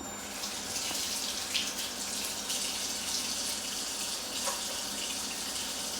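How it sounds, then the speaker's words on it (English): Kitchen tap water runs steadily and loudly into a sink during handwashing, a continuous hissing splash that holds nearly constant throughout with no talking. "always wash your hands for at least 20 seconds before you start"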